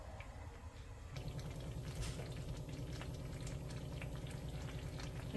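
Pav bhaji simmers in a pan on the stove with a soft, steady bubbling and sizzling that starts abruptly and then continues evenly, close and quiet, with no talking.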